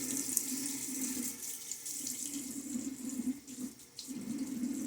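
Water runs from a bathroom tap into a sink while someone wets their face before a shave, a steady close hiss and splash that wavers slightly as hands move through the stream.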